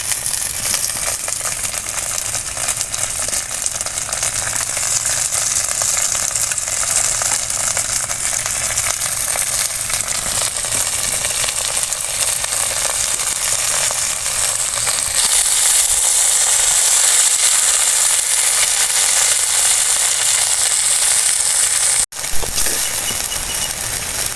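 Ingredients for a tamarind chutney sauté in a pan with a loud, continuous sizzle that holds steady throughout, broken only by a brief cut near the end.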